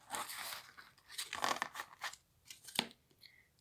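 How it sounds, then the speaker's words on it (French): Tarot cards being gathered and put away, giving a run of close papery rustles, crinkles and quick shuffling scrapes with a few sharper snaps, fairly quiet and with no speech. "Je vais ranger les autres cartes."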